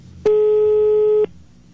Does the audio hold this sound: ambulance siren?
no